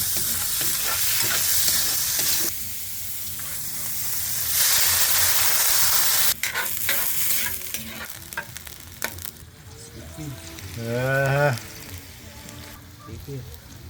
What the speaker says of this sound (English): Sizzling oil into the pan.